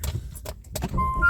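A car being started from inside, with brief clicks and jangling keys at first, then an engine catching into a steady close-up idle hum.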